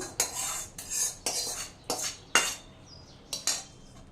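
A spoon scrapes and clinks against a bowl as cooled tempering is stirred into homemade tomato pickle: about seven sharp, evenly spaced strokes, close and fairly quiet, with no talking.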